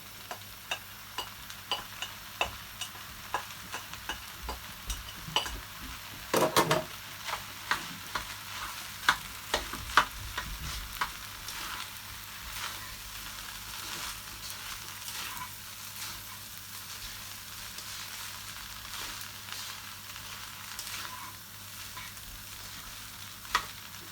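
Egg fries in a wok with rice and king prawns, a continuous close sizzle broken by a regular series of sharp scraping and tapping strokes from stirring, with no voices.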